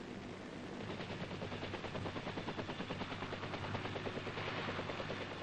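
A UH-1B armed helicopter fires its machine guns, a long rapid rattle of evenly spaced bursts over the constant thudding roar of the rotor.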